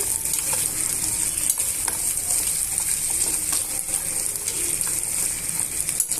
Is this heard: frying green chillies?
yes